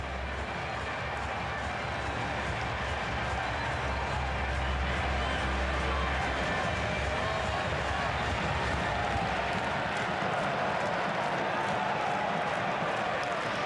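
A Charlotte stadium crowd at a United States versus Senegal soccer match roars in a dense, sustained wash of cheering after a US goal, with a commentator talking over it.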